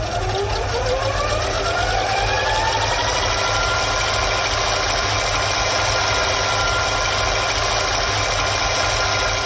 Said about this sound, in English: Rewinding a VHS cassette.